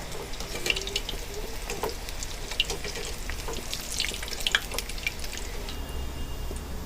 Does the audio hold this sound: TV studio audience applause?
no